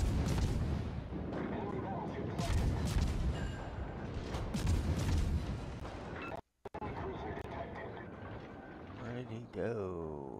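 Naval guns firing in World of Warships during Khabarovsk gunboat play, a dense run of heavy booming salvos and rumbling blasts with game sounds throughout, a brief silent gap, then lighter tonal effects, with speech mixed in.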